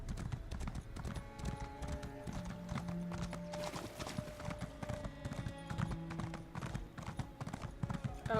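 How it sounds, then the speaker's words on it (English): Steady clip-clop of horse hooves at a brisk trotting pace in Elder Scrolls Online's Elsweyr, close and continuous, with tonal game music and ambient sound layered underneath. "My horse is going as fast as that person is running."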